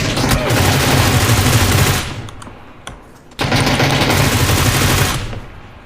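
Heavy automatic gunfire in a battle royale video game roars in two long, dense bursts separated by a short lull with a few isolated shots, loud and close.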